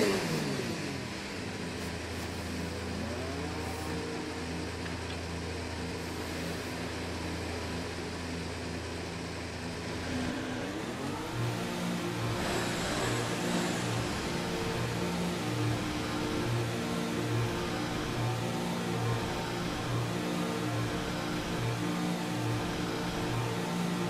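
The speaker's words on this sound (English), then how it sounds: "Engine fired, we're set." A racing car engine idles steadily, then revs up and holds a higher droning pitch, a continuous loud mechanical hum with no talk.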